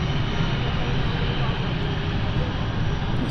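Falcon 200 business jet taxiing at London City airport, a steady, loud engine drone with constant low rumble throughout, some broadband roar and faint background talk.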